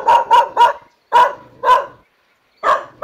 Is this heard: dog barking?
yes